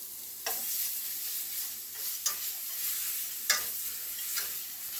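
Onions fry in a pan for smothered turkey wings, a steady close sizzle with a few sharp clinks and scrapes of a utensil against the pan, no talking.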